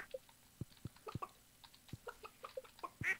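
Small clucks and soft chirps of chickens in the Stardew Valley farm game, a string of short, quiet calls scattered over a few seconds with faint percussive clicks between them, no talking.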